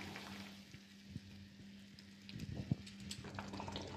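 Besan batter goes into a simmering brinjal curry with a faint, steady sizzle and soft bubbling, and a few slightly louder pops and spatters toward the end.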